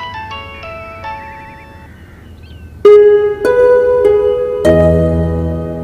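A melodic electronic phone ringtone plays alone, starting soft and becoming noticeably louder and fuller partway through.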